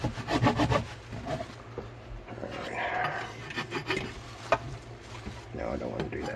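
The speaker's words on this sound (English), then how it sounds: "keep filing" A file rasps against the wood of a set-neck ES-335-style Hohner guitar body, with close, uneven back-and-forth strokes in short bursts and a brief spoken aside partway through.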